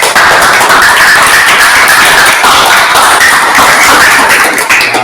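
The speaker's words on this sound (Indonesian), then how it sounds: "Tepuk tangan buat." A classroom of students applauds at the close of a vocational lesson on engine lubrication systems: dense, steady clapping that fills the whole stretch at high level, with no clear speech over it.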